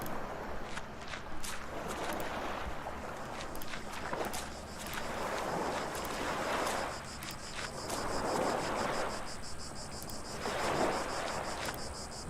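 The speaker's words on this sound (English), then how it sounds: "That's crickets." Crickets chirp in a steady, faint background in the video game The Last Door, with soft swells of wind or shuffling footsteps rising and falling beneath them.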